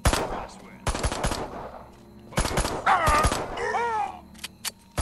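Weapon fire aimed at a human in Destroy All Humans, coming in short loud bursts of rapid shots separated by pauses, with groaning and shouted cries in between.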